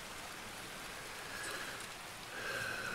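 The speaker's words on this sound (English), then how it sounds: "Right, starts to rain." Rain falls steadily in the video game Escape From Tarkov, a soft continuous broadband patter that swells slightly louder toward the end, with no talking.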